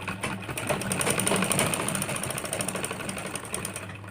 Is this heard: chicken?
no